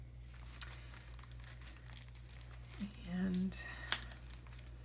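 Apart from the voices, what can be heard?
handling vintage papers for a garden journal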